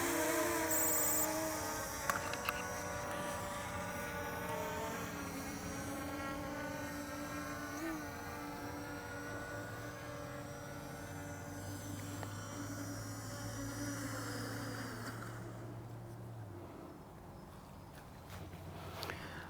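A Holy Stone HS720R drone flying back on return to home, a faint propeller whine and hum that shifts in pitch as it circles overhead, fading toward the end.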